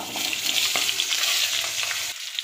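Potato pieces hit hot oil that already holds green chillies and bay leaves, and a loud, steady sizzle of frying follows, with stirring scrapes and no talk before it cuts off abruptly.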